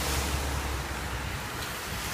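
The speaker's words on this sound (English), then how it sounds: "the water is actually flooding from the bay and the ocean into the streets of Miami Beach" Sea water from the bay and ocean floods into Miami Beach streets during sea level rise, a steady close rushing wash with wind buffeting the microphone and no voices.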